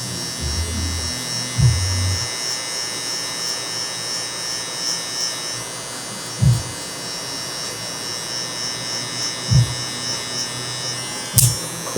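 Electric hair clippers with a .5 guard buzz steadily and close up while cutting hair in a barbershop, with a few soft thumps from handling as the blade works open to closed.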